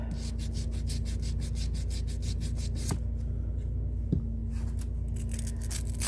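Sandpaper rubs by hand over a resin tray in a brisk back-and-forth rhythm, close and steady, with a couple of sharp ticks and a short lull midway before the scraping resumes.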